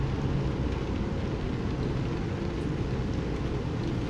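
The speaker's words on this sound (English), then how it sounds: "And I really wish it wasn't raining so hard so I could see further in front of me." Heavy rain falls in American Truck Simulator, a steady, fairly faint hiss over a low engine drone with a constant hum, no talking.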